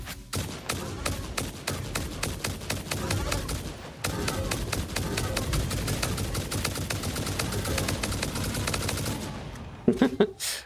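Turbo rifle ammo fired in the game Satisfactory: long, rapid automatic bursts of loud, close gunfire with a brief gap, ending in a few scattered shots and thuds.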